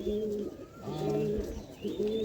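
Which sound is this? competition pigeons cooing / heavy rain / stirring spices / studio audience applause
competition pigeons cooing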